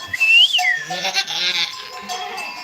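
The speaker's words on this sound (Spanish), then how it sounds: "chivos aquí a punta pala" Goats bleat loudly and close by, several overlapping wavering calls with a high whistle-like cry at the start, as a first-time mother goat gives birth.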